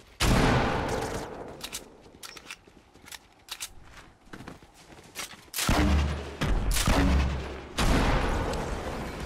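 Gunfire rattles through a late-game squad battle in a video game: clusters of sharp, loud reports fire in quick irregular bursts, with a few heavier booming blasts toward the end.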